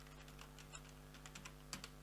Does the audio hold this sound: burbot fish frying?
no